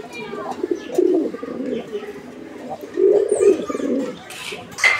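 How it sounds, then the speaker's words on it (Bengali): Pigeons at a pigeon farm, including a vocal male, give deep rolling coos in two main bouts, close and clear, with a few softer calls and chirps between them. "যারা ভরপুর ডাকের একটা নর সহ কবুতর খুঁজতেছেন"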